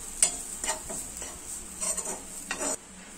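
Grated coconut fried in a pan for Kerala-style sambar, stirred with a few scraping strokes over a soft, steady sizzle.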